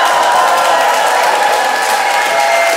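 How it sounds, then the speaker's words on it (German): Dense stadium crowd roaring and cheering at a European Championship football final in Kyiv's Olympic Stadium, a steady loud wash of voices and applause with no break. "Die Stimmung im Kiewer Olympiastadion ist ausgelassen,"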